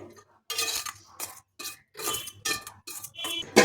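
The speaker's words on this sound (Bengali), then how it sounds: "চামচের সাহায্যে খুব ভালো করে মিশিয়ে নিচ্ছি।" A spoon mixes hot boiled potatoes into a gram flour batter in a bowl, scraping and clinking against the sides in irregular bursts, close and fairly quiet with short pauses between strokes.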